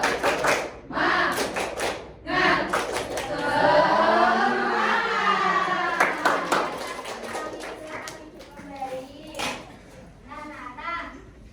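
Elementary pupils standing in class do a spirit clap chant, sharp rhythmic group claps mixed with loud chanting voices and a teacher speaking, the clapping close and bursty amid the talk.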